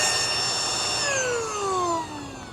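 Rechargeable paddle board pump running with a loud, steady electric whine and motor drone, its pitch sliding downward as it changes speed near the end.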